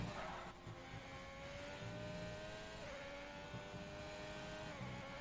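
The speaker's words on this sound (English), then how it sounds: "He's revving quite a lot with his gear changes" Race car engine in a Formula 1 style racing video game revs hard and steadily with harmonic whine, shifting pitch through gear changes, loud and continuous.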